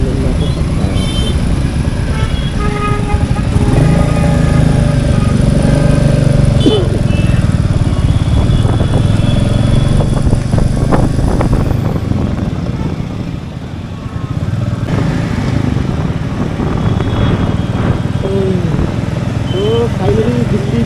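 A Royal Enfield Meteor motorcycle rides through Delhi traffic, its steady engine and road roar running throughout beneath continuous talking from the rider.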